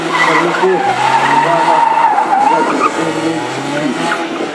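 BMW car at a slalom event in Ivano-Frankivsk, its tires squealing and skidding loudly and continuously through the course under a wavering engine note, with voices faintly audible.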